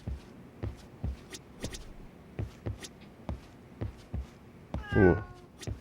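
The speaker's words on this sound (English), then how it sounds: "I'm for sure hearing a cat in here." Soft, steady footsteps tap along in the video game Lost Judgment, then a single loud cat meow rings out near the end.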